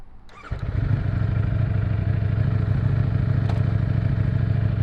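A wrecked Ducati Streetfighter V4S motorcycle engine catches and starts, then settles into a steady, close, low rumbling idle with a faint metallic clatter.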